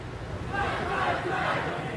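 A crowd of protesters marching through Charlotte at night, a continuous dense roar of many voices with shouts and chanting rising throughout, steady and moderately loud.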